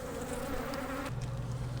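Honey bees buzz steadily around hive frames in Oklahoma spring weather, a dense continuous drone that stays close and unbroken, with the pitch shifting lower partway through and no voices over it.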